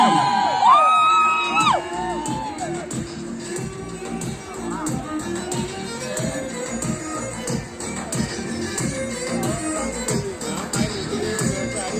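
A large crowd whoops and cheers loudly at the Thirunakkara Pakalpooram elephant festival in Kottayam, the shouts and yells swelling at the start and then continuing in waves over festival drumming and background noise.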